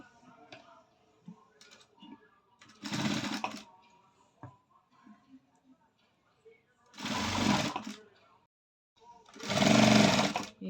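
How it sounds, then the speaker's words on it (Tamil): A sewing machine stitches along the folded edge of a blouse fabric in three loud, sustained bursts of whirring, separated by quieter handling sounds and talk. "இந்த ஓரமாக தையல் போட்டுக்கோங்க"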